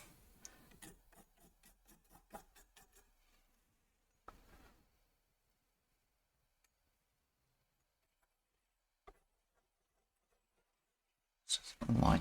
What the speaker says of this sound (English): So let's just scrape a bit of paint off.